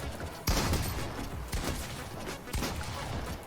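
Pump shotgun fired at an opponent in a video game: three loud, close blasts about a second apart, each with a short ringing tail over a dense game background.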